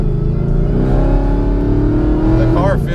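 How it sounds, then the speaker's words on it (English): High-horsepower tuned street car on street tires accelerating, its engine note rising steadily in pitch with a loud, close, droning exhaust and a quick shift-like change near the end. "I'd like to do some driving with the car."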